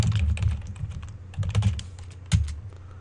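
Someone types on a computer keyboard into an Excel spreadsheet: close, quick runs of key taps in bursts with short pauses, with no talking.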